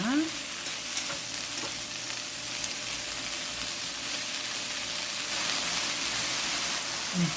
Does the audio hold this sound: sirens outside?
no